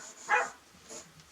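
A little puppy gives a single short, bright bark at a moderate distance in a quiet room, followed by a fainter yip about half a second later.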